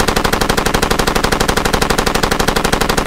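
Suppressing machine gun fire from Far Cry 2, a steady, loud, rapid-fire stream of evenly spaced shots hammering without pause from start to finish, close and dominant with no talk over it.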